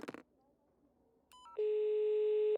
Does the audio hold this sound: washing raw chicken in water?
no